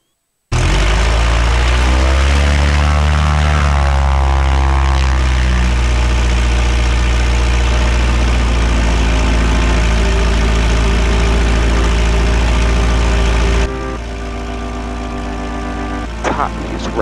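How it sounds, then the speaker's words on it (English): Small propeller airplane RV788 on runway 17, its engine running up to a loud, steady drone for takeoff, close and dominant throughout, easing slightly near the end. "RV788, Mike Tango taking off runway 17"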